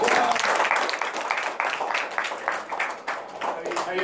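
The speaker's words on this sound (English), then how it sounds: "But everybody give Dave a big round of applause." A classroom group gives a visiting guest named Dave a round of applause: scattered, uneven hand claps with distinct individual strikes, and voices talking over the clapping throughout.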